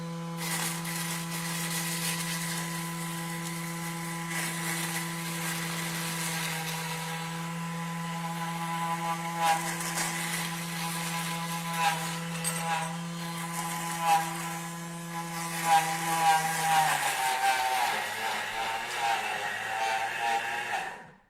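A Thermomix spins pandan leaves at top speed 10, a steady loud motor whine with a strong low hum throughout that drops away near the end as the blade slows.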